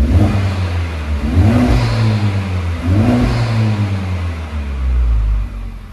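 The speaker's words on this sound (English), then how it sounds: "So we let the vehicle warm up and now hear how it sounds" A warmed-up Honda Civic Type R with its 2.0 i-VTEC engine runs close by, a steady idle broken by two or three short throttle blips that rise and fall.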